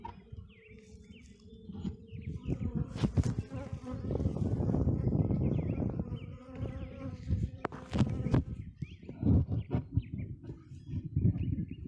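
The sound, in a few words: honey bees buzzing around an open hive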